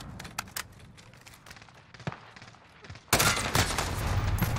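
Scattered gunshots crack in the distance in Modern Warfare before an Odin rifle opens up close and loud in a sustained automatic burst lasting the final seconds.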